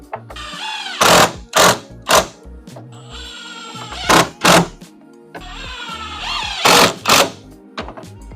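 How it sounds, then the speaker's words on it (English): Poly slats being screwed onto an Adirondack chair with a power driver, which whines in short bursts, several quick pulses, then longer runs, loud and close, with no talking. "So we're not going to start spacing these and screwing them in."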